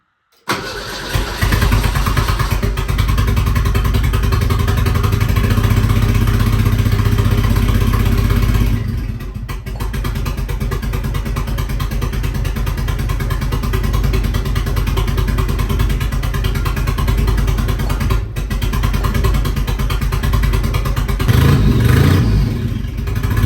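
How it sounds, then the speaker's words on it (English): A chassis-swapped 1959 Mercedes engine catches and runs, a loud steady rumble close by that drops briefly and then settles into a rough, uneven idle with a few surges near the end. "Now it should fire up."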